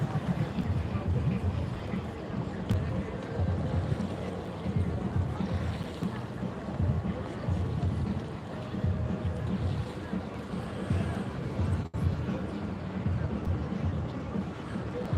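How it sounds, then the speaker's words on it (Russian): A motorboat passes out on the sea with a faint low hum, partly buried under wind and the wash of waves along a seaside promenade. "Какой-то катер или что-то плывет."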